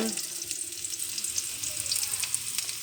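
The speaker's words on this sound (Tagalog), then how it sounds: "gisa na natin yung bawang sibuyas" Garlic and onion sautéing in a hot pan, a steady bright sizzle and crackle with occasional scrapes of stirring, close and continuous with no talking.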